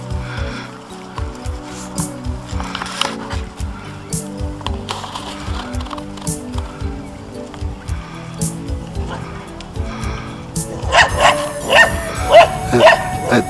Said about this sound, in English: That dog in the background bothers a little bit.